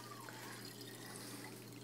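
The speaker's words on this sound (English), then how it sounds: "First thing is you add the water" Water trickles and pours steadily into the reservoir of a Bellman CX25 stovetop espresso maker, a faint, continuous liquid fill with no talk.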